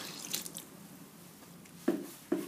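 Water is added to a batch of thick homemade liquid soap, with a few separate drips and splashes, the clearest two landing close and distinct near the end.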